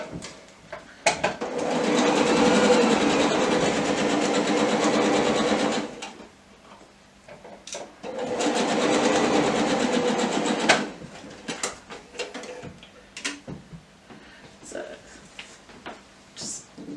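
Sewing machine stitching a quarter-inch seam through patchwork fabric pieces, two sustained runs of steady whirring separated by a pause, with a few clicks and handling noises afterward.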